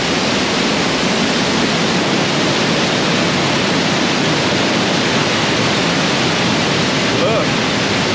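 Loud, continuous roar of a rushing waterfall in Banff National Park heard from close by, a dense unbroken wash of falling water with a voice speaking briefly beneath it.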